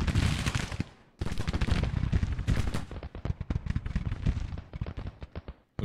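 Musket volleys from Jubal Early's Confederate brigade crackle on a Civil War battlefield in Grand Tactician, irregular bursts of many overlapping shots, some dense fusillades and some scattered pops, close and loud.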